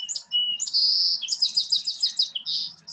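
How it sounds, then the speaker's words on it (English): A small sparrow sings a bright, high, variable song of trills and rapid repeated chirps, clear and fairly close against a quiet outdoor background with no talk. "This little sparrow, you can tell their song."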